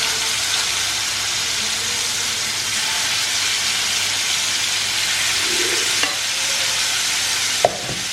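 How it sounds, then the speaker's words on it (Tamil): Marinated soya chaap frying in a little oil in a pan gives a steady, loud sizzle throughout, with a couple of brief clinks of a utensil near the end. "இதில் நம்ம வந்து மேரினேட் பண்ணி வச்சுருக்கிற நம்மளோட சோயா சப்பை போட்டு நல்லா ஃப்ரை பண்ணி எடுத்துக்கலாம்"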